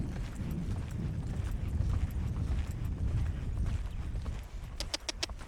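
A two-year-old horse with thirty days under saddle loping, its hoofbeats a soft continuous rolling thud over steady ground noise, fairly distant and muffled.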